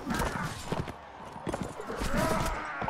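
Horse hooves in Mount & Blade: Warband during a tournament, rapid galloping clip-clop beats over a busy battle din with occasional clashes, fairly close and continuous.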